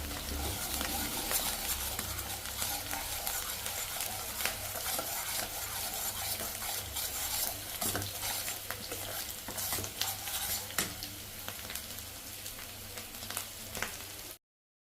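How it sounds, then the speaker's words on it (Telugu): Potato pieces and onion masala fry in a pan with a steady close sizzle, joined by repeated stirring scrapes throughout, then a sudden stop at the end, with no talk. "ఉల్లిపాయ మసాలా వేగిపోయింది, అలాగే బంగాళదుంప ముక్కలు కూడా వేగిపోయాయి."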